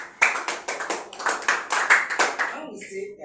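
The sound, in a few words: class clapping hands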